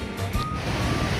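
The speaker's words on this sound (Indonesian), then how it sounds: "Nah kita sudah tiba di pantai" Surf washing up on a crowded, windy beach, a steady broadband rush of waves with gusty wind noise throughout, fairly close and continuous.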